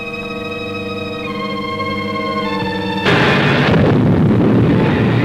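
An orbit jet spaceship blows up in an old space-ranger film, a sudden loud roaring blast breaking in over a sustained musical tone and rumbling on for a couple of seconds before fading.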